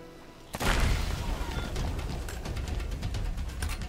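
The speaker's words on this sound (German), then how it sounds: "hier ist so ein Fass. Das können wir zum Explodieren bringen." A video game barrel explosion: a sudden booming blast after a brief quiet moment, followed by a rumbling, crackling tail that lingers for several seconds.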